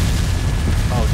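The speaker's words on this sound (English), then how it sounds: "Hey, that's just explosion." A video-game explosion: a deep, rumbling boom fills the clip, a heavy low-frequency blast sustained throughout with a steady loud level.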